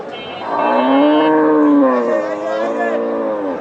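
A cow at a cattle market lets out one loud, close, drawn-out moo that swells and then fades over a few seconds.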